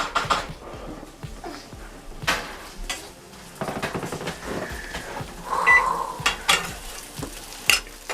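Breakfast tacos cooking in a pan, with soft sizzling and frying under intermittent stirring, utensil scrapes and light clatter of pans, close by and fairly steady throughout.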